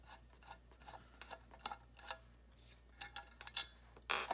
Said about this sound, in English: I'm going to get my little mini screwdriver in here. I'm going to pull that out.